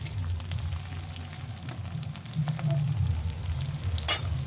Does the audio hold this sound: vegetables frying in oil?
yes